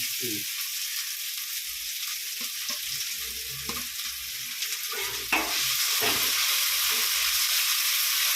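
Ginger garlic paste and onion frying in hot oil for prawn thokku, a steady loud sizzle with occasional stirring scrapes and small spatters, growing slightly louder near the end.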